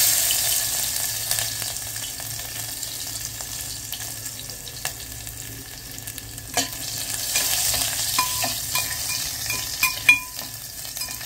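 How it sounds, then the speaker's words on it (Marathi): Garlic frying in hot oil in a pan for egg masala, a steady crackling sizzle with occasional louder pops and stirring scrapes, close and continuous with no voices. "मंडळी, आता तेल गरम झालंय तर आपण त्याच्यात लसूण टाकून घेऊया।"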